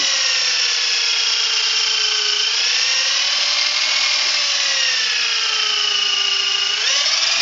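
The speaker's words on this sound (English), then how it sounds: "I just put it on a screw gun. And it fits just about perfect once it gets spinning." A screw gun spinning a microfiber polishing ball, a loud steady high whine that holds for several seconds, dips slightly in pitch as load changes, then rises again near the end.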